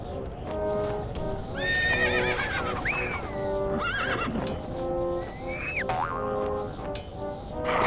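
A horse in a LEGO Island 2 video game neighs and whinnies in repeated bright, bouncy calls over clip-clop hoofbeats and a steady game music bed, close and clear.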